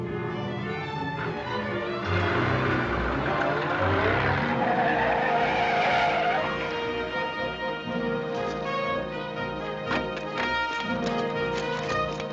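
Car pulling away under remote control amid dramatic racing-style engine noise and tire squeal, busy and loud throughout with a rising rush in the middle, no talk.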